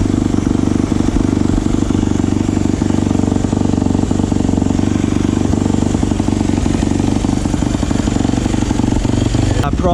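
A kick-started Yamaha YZ250F four-stroke dirt bike engine runs loud and close, holding a steady throbbing idle with a sharp rev burst near the end.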